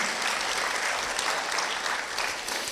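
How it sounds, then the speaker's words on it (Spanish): Congregation applause during a church sermon, a loud, dense, sustained roar of many people clapping together, steady and close throughout with no talking. "Si quieres, puedes darle un aplauso al Señor."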